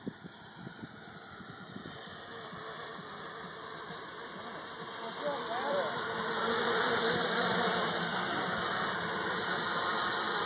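Multirotor drone on an Arducopter build with a QSC mod, motors and rotors in flight, giving a steady whining hum with high tonal whistles. It swells louder about halfway through and stays strong to the end.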